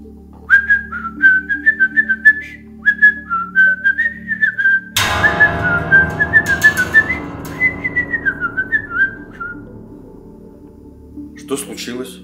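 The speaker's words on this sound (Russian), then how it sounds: "можно я запишу на видео, как вы свистите?" A man whistles a lilting melody in short bright phrases, loud and close, pausing midway as a noisy burst and background sounds cut in, then resuming the tune; brief voices are also heard.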